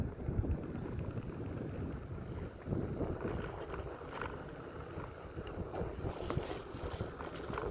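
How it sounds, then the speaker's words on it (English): Wind rushes across the microphone while riding a Segway outdoors at night on a cool evening, a continuous low buffeting roar with uneven gusts throughout. "So you might hear a little extra wind."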